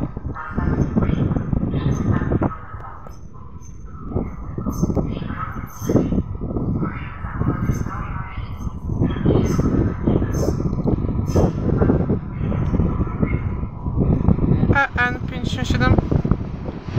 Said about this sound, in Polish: pociąg Regio